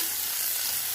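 Chopped onion and green chilli sizzling in hot oil left from frying fish, a steady dense hiss filling the moment without pause, close up and with no voices.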